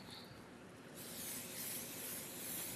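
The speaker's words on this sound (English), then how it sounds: "All right, so our pan has heated for our asparagus. I'm just going to spray that." Cooking spray hisses into a heated pan readied for asparagus, a close, steady spray that starts about a second in and runs continuously to the end.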